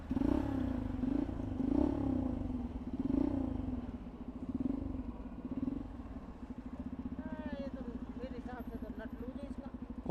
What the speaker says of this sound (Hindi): ये मैग्नेट कॉल की आवाज़ है ना